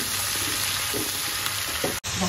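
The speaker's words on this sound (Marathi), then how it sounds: "आता आपण यावर मशरूम घालूया आणि छान परतून घेऊया" Mushrooms fry in a hot pan with a steady, dense sizzle, stirred now and then, close and fairly loud, with a brief dropout just before the end.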